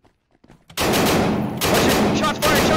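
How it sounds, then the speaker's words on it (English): Gunfire in the tactical shooter game Tactical Assault PVP during a barricaded-suspect raid: after a quiet start, a sudden loud burst of rapid shots rattles on continuously with brief dips for about two seconds. "Shots fired!"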